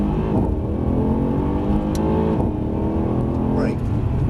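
Mercedes-AMG C63 saloon engine pulling steadily at close range on a driving-experience track, a continuous loud low drone with harmonics shifting as it accelerates, while people talk over it inside the car.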